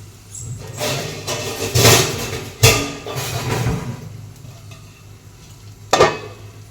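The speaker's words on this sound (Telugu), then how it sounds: "లైట్గా రోస్ట్ చేసుకుందాం." Ivy gourd (tindora) roasts in a pan with soft frying sizzle under repeated scraping stirs and clanks of a utensil against the metal, a louder knock near the end.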